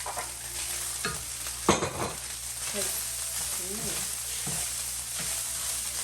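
Onion frying on high heat for samosa filling, a steady close sizzle with a few stirring scrapes and clatters over it, plus brief indistinct voice sounds.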